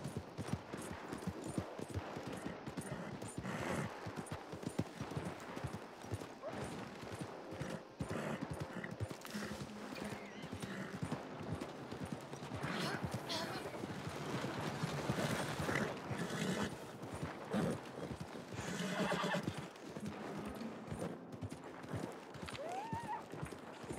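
Horse hooves clip-clopping at a steady galloping rhythm in Red Dead Redemption 2 Online, close and continuous, with game ambience and occasional faint voices in the background.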